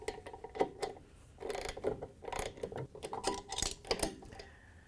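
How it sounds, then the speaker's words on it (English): A 19mm socket wrench tightens the tub bolt on a Samsung washer, its ratchet clicking in quick close bursts with short pauses between strokes. "To tighten the bolt down, we're going to use our 19mm socket again."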